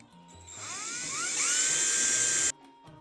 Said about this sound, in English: So when he goes to drill, yeah, and drilling into the table is not good.